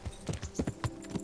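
Horse hooves clopping in the medieval video game Kingdom Come Deliverance, a quick rhythmic run of about five close, sharp hoof strikes with no talking.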